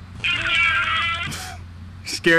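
A cat gives a long, drawn-out meow up close, then shorter sharp cries near the end, over a low background hum.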